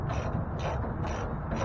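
A wrench ratchets as it tightens a bolt on the rear end of a 1969 Chevrolet C10 pickup being lowered: close, repeated grinding clicks in short bursts, with no voices.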